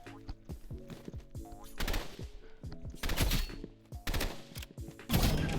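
Gunfire in the shooter game Rivals: several short, rapid bursts crackle close by in quick succession, with brief pauses between volleys.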